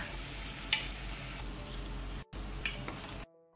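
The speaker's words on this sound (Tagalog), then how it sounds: "gisa-gisa, gisa-gisa natin hanggang maging golden brown siya" Onions sautéing in a pan toward golden brown, a dense, constant sizzle with brief stirring scrapes, cut by a short dropout and ending abruptly, near and without talk.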